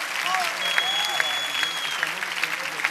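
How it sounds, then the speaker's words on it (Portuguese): An audience claps continuously at a church youth program in Brazil, a steady mid-distance patter of applause with a few sharper individual claps standing out. "Aplaude a ele!"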